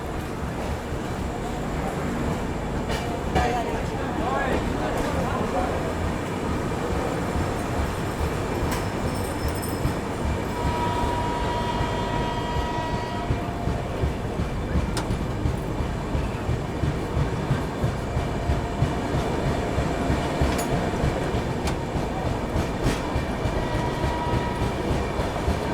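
The Vibhuti Express rolls out of Durgapur railway station, heard from the last coach as a loud, steady rumble with repeated wheel clatter that builds with speed.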